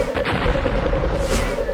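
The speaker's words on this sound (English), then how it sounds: "Calvin's passing through the exploding mines at great speed." Rapid explosions from small mines going off in an animated robot battle, a dense, continuous barrage of booms and blasts filling the clip at close range with no pauses.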